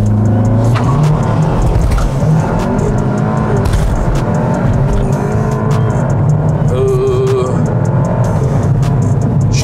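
A modified Volkswagen Golf GTI drives and accelerates on a road, its engine droning loudly and steadily from inside the car with shifting revs, while people talk over it.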